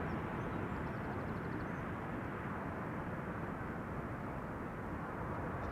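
A KLM passenger flight from Humberside lands at Amsterdam Schiphol Airport on a sunny day, its engines giving a loud, steady jet roar that holds unbroken.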